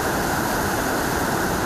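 Strong current of the Abra River rushes over rocks, a dense, continuous broadband roar of water that holds steady and close throughout, with no voices.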